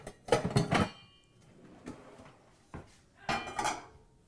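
A pan pulled out from among stacked pots and pans, giving a few close metallic clanks and scrapes in short clusters with quiet gaps between.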